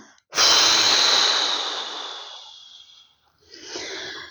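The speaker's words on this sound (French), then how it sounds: "Inspire profondément pour te dynamiser, puis souffle fortement." A deep breath drawn in and then pushed out hard in a strong exhale, close and loud, fading slowly, with a brief second breath at the end and no talking.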